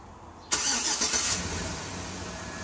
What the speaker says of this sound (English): let's get out of the vehicle and see if the remote start will actuate